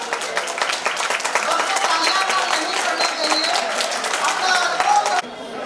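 An audience at a poetry gathering of visually impaired poets, held at a school, bursts into loud sustained clapping, dense and continuous for over five seconds before it drops off sharply near the end.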